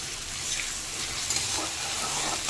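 Mixed vegetables frying together in a pan give a soft, steady sizzling hiss at close range, fairly quiet and even throughout with no voices.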